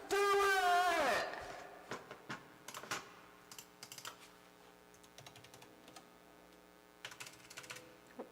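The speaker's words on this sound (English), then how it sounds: "it's amping up my keyboard" Typing on a computer keyboard amplified through a streaming setup: scattered clicky keystrokes with bright metallic reverb, close and moderately loud, following a brief sweeping electronic tone at the start.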